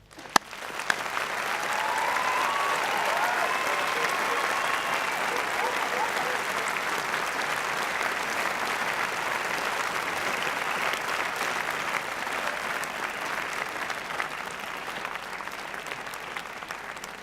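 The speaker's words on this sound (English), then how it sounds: "join with me in a loud round of applause for the parents and loved ones" Long, loud, sustained applause from a large audience at a 2009 graduation ceremony honouring parents and loved ones, dense clapping holding steady throughout with a few sharp claps near the start.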